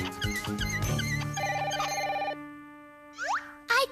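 An electronic telephone bell rings in a quick burst of bright repeated tones, joined by bubbly cartoon sound effects, then cuts to silence before a couple of short springy boing-like blips.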